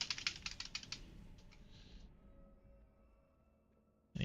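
A computer keyboard clicks in a quick run of repeated key presses, close and crisp, during a World of Warcraft dungeon run, then quiet follows before a sudden loud knock at the end.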